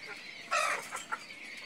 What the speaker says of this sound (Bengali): আমাদের সামনে যে কোয়েল পাখিগুলো দেখা যাচ্ছে, ওদের বয়স হচ্ছে আজকে 15 দিন